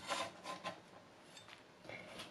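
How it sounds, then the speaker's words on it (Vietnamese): A carrot is scraped across a grater in short, faint rasping strokes, a few quick passes with brief pauses between them, heard alone. "Hoặc có đồ bào mình bào cho nhanh hơn."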